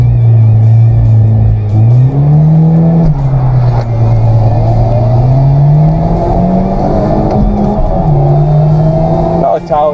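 Hyundai Genesis and Audi turbo drag race, engines revving hard with rising and falling pitch as gears shift, loud and close throughout, with people talking over the engine noise.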